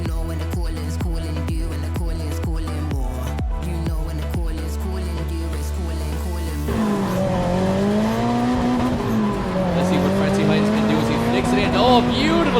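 A drift car at Japfest, part of the Irish Drift Series, revving hard with rapid rhythmic gear-limiter pulses, then a sustained wailing engine and tire squeal through the flick entry, loud and close, with a commentator talking over it.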